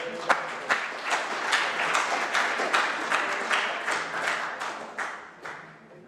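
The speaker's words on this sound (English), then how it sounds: "let's give them applause" An audience bursts into sustained applause, dense clapping that swells and then tapers off near the end, with no talk over it.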